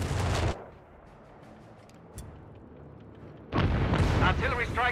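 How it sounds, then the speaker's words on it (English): Artillery strike in Company of Heroes 3, a Wehrmacht team game: a loud burst of booming blasts at the start, then a quiet stretch with a single faint thud, before another heavy barrage of explosions with voices over the end. "Artillery strike underway."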